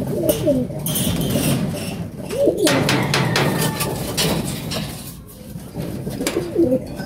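Racing pigeons coo repeatedly at a derby race in Quezon, several soft throaty calls rising over steady loft and outdoor background noise, with occasional light clatter and no speech.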